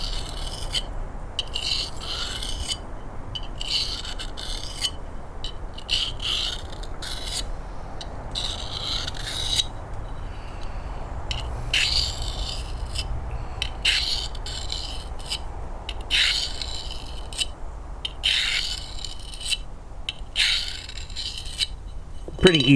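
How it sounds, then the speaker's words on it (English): Knife blade stroked by hand across a small wallet-sized diamond sharpening plate, giving repeated rhythmic rasping scrapes in bursts with brief pauses, close and fairly loud. "You want to just let the blade glide on it."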